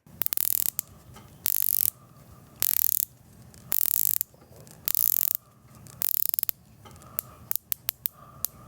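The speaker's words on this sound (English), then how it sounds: "get the microphone really close and see how this bezel action sounds" Ceramic bezel on a Wishdoit WSD-987 dive watch clicking as it is rotated up close, giving repeated short bursts of dense ratcheting clicks separated by brief pauses, loud and alone.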